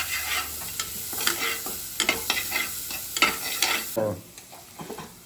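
Onions frying in oil at close range, giving a crackling sizzle broken by repeated stirring scrapes of a utensil in the pan, with no voices.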